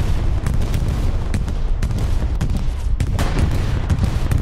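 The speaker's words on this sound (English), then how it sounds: "that bombing just fucking missed me" Bombing in the Hell Let Loose World War II video game on PS5: heavy, continuous rumbling explosions and scattered gunfire crack in quick succession, loud and dense throughout.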